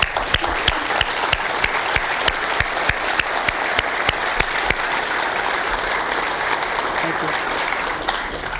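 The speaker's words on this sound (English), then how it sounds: "let's give them a round of applause" An audience at a 2018 employee recognition event gives Winter Academy trainers a sustained round of applause, dense hand clapping filling the room, with a few louder individual claps standing out near the front.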